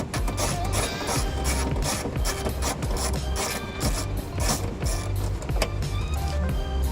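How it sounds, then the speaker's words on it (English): A ratchet wrench with a 10mm socket backs out the lower cargo strap anchor bolt in a 2013 Toyota Prius during a trailer wiring install. Rapid, close mechanical clicking runs continuously throughout with no talking. "Now we'll take our 10mm socket, take the lower anchor out."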